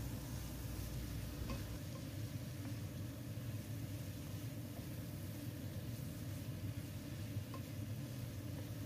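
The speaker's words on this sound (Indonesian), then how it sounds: "Kemudian masukkan cabai hijau yang sudah diiris-iris tadi. Aduk hingga merata." Chicken gizzards with sliced green chilies sizzle steadily in a pan, with a low constant frying hiss and a few faint scrapes of stirring.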